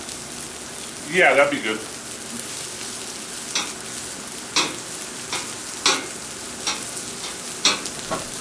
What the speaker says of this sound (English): I'm gonna drop some mushrooms, because mushrooms take a while to do